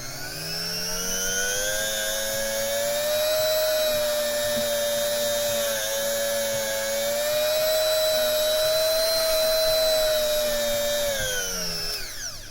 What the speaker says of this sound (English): just polishing the last couple of your frets